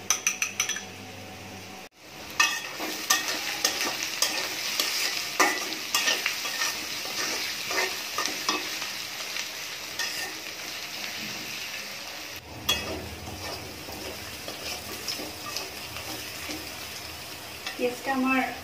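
A spice paste fries in a pan for an egg bhuna curry, giving a steady close sizzle with frequent spatula scraping, stirring and occasional metal clinks against the pan, and a brief pause early on.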